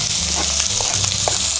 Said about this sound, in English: I'm going to put the onions in a cast iron frying pan,